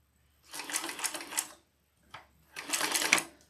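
Sewing machine stitching an AnnaBelle shoulder bag in two bursts of steady, rapid needle chatter, a longer run followed by a brief pause, a short tap, then a second run, close and alone.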